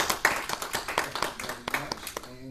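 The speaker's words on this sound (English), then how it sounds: "So give yourself a round of applause." A small audience at an informal speech on AIDS treatment claps in sparse, uneven applause, individual claps distinct and fairly close before fading out.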